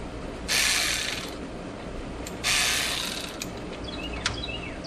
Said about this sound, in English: Then I need to take these clamps loose that are holding this hose on.